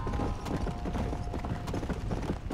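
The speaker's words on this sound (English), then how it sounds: "So I'll just record me riding on this fire horse on this very long journey" Hooves gallop steadily on a fiery undead horse in Red Dead Redemption: Undead Nightmare, a fast continuous clip-clop rhythm ringing out loud and close, with no talking over it.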